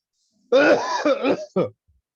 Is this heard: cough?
yes